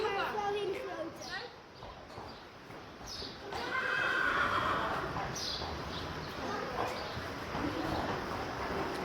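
A Friesian horse whinnies and its hooves clip-clop nearby, while people talk over much of it and birds and children are faintly audible in the background.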